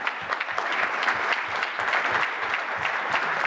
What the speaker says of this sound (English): Let's give another big round of applause for our Brownsville Matamoros ambassadors.